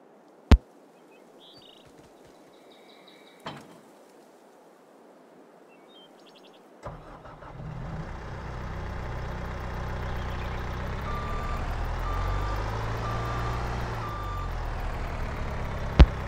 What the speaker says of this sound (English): we're going to jump into the excavator or the skid steer and do a little more clearing